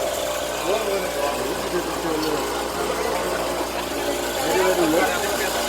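A motor vehicle engine idles steadily at close range in a village setting, its low mechanical chug running beneath people talking.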